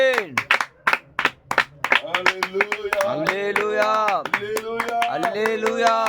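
A church congregation claps in a fast, steady rhythm, loud and close, while voices chant and sing over the beat for the whole stretch.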